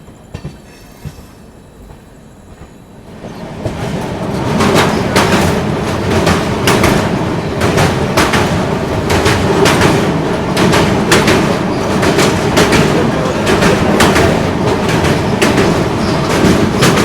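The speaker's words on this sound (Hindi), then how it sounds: "और यहाँ पे हमारी क्रॉसिंग हो रही है पटना न्यू जलपाईगुड़ी वंदे भारत से।" The Darjeeling Mail, hauled by a WAP4 locomotive near New Jalpaiguri, rushes past a Patna–New Jalpaiguri Vande Bharat. A loud, steady roar builds after a quiet start, with rhythmic clickety-clack of wheels over rail joints throughout.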